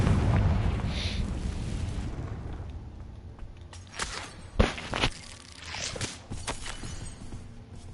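A Confringo spell cast in the Hogwarts Legacy game sets off a blast: a deep rumbling roar gives way to a sharp boom partway through, followed by crackling bursts and ringing debris sounds.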